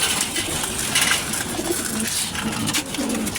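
Pet pigeons coo softly and repeatedly while pecking at pellets, with scattered clicks and rustling close by under a broad background hiss.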